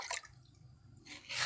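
Water from watering potted fruit plants in hot sun drips and splashes softly in short bursts at the start and end, quiet and nearby, with a faint lull in between.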